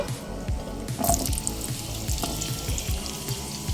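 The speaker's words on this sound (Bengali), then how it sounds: "মাছ ভেজে নেওয়ার তেলের মধ্যে আমি আলুগুলো সব দিয়ে দেব" Potatoes frying in the oil left after frying pabda fish, a bright continuous hiss and crackle of sizzling oil, close and steady, with clinks and stirring noises from the pan.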